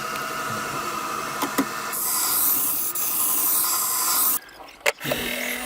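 Kitchen knife, a Blenheim Forge nikiri, stroked across a 320 grit whetstone, giving steady close rasping scrapes that pause briefly near the end before resuming.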